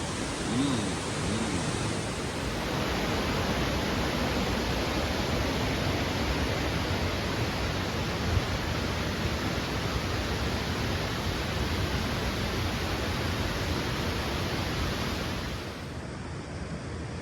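Salmon Creek Falls roaring in a constant, broadband wash of rushing water, loud and unbroken for over a dozen seconds with no voices.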